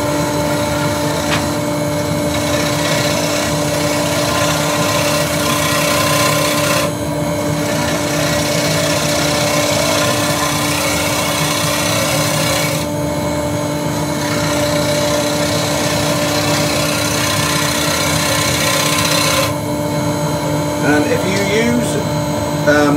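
A wood lathe spins while a scraper with a negative rake shear-scrapes a raised bowl, giving a steady whirring drone with continuous scraping texture and hum, close and fairly loud, with no talk.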